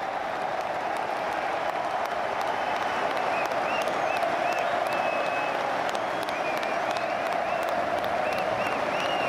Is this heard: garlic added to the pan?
no